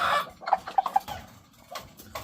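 A brooding Ilgama breeding hen from Sabong bloodlines clucks close by in a quick run of short clucks, followed by quieter scattered calls and shuffling, no speech.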